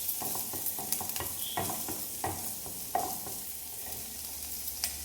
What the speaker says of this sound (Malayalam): അടുത്ത് നമുക്ക് ഒരു 3-4 അല്ലി വെളുത്തുള്ളി ചേർത്ത് കൊടുക്കാം. അതും കൂടി ചേർത്ത് വഴറ്റിയെടുക്കാം.